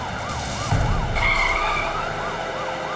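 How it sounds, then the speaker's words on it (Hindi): Wailing police car siren during a chase, rising and falling rapidly and continuously, with a brief burst of tire screech midway. "पुलिस हमारा पीछा कर रही है"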